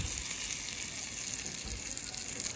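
An egg sizzles and fries in a vintage Corning Vision glass skillet, a soft, steady crackle heard up close with no one talking.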